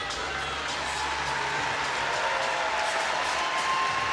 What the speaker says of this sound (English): Just heard them give her a great ovation.